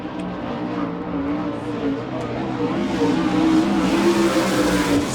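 A USAC National Sprint Car on a qualifying lap at Rossburg, a loud, continuous engine roar at high revs that holds steady and swells slightly as the car circles the dirt track.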